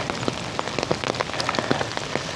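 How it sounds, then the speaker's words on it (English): Rain pattering steadily on a camera lens at a campsite at Withlacoochee Holder Mine, Florida, with scattered sharp drop taps over a continuous wet hiss. "Raindrops keep falling on my camera lens."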